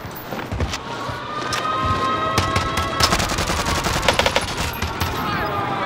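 Close, loud bursts of automatic gunfire in Call of Duty on Rebirth Island, rapid repeated shots with distant cracks and game ambience throughout.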